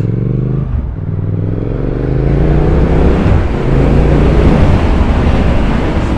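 A 2023 Triumph Speed Twin retro motorcycle's engine runs steadily up close, a loud, continuous low rumble with harmonic drone that rises slightly in intensity partway through, with no talking.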